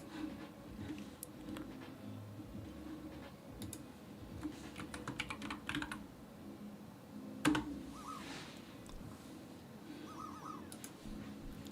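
Computer keyboard typing during .NET SDK coding work: faint, irregular bursts of key clicks over a steady room hum, with no talking.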